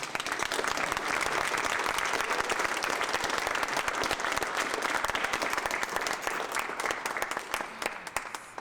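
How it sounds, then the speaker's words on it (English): Sustained audience applause at a poetry reading, steady and dense clapping from a full crowd that stays loud for its whole length before thinning slightly at the end. "Let's give John another round of applause."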